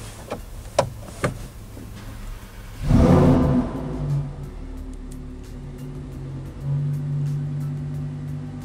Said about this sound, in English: I'm sure you guys heard that snap and the pop of the exhaust.